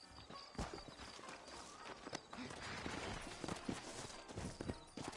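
Horses' hooves clip-clop in Red Dead Redemption in a scene set in New Orleans, with a fairly quiet, irregular patter of steps at moderate distance and no talk over it.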